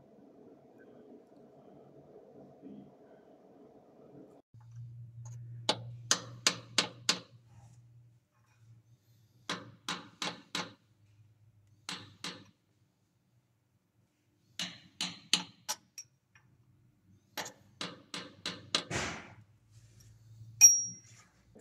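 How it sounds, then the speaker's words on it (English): Output shaft seal tapped flush into a transfer case housing, several short bursts of light metallic taps in quick groups of three to five, close and crisp against near silence. "So here I was just tapping it flush."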